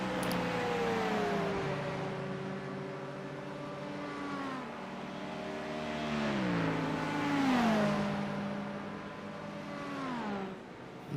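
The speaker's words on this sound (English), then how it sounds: "Dan taking a quick look to the inside of the 99 car, McDonald." Race cars in a racing video game at Watkins Glen, engines droning and revving steadily with rising and falling pitch as cars accelerate and shift, loud and continuous throughout.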